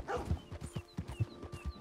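A dog in Red Dead Redemption 2 gives a quick series of soft, rhythmic barks or yips, faint and somewhat distant, with light game ambience behind.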